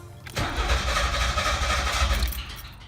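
A 1995 Camaro with a 3.4L V6 cranks briefly and then catches, settling into a loud, steady idle rumble close by, with nobody speaking.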